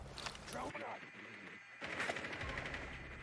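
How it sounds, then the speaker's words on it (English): Gunfire in a collegiate esports match between LMU and Marietta comes as distant rattling bursts of shots beneath an excited commentator's voice. "Looks like some shots are being fired somewhere."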